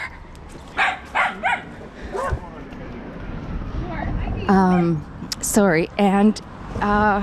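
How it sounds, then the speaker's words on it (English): Several puppies yip and bark in short bursts close by, mixed with whimpers, while people talk over and between the barks outdoors near a driveway. "Look at all these puppies."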